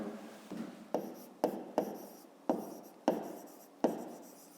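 Numbers being handwritten with a pen on paper: about seven quiet, short scratchy strokes in an uneven rhythm, close and alone.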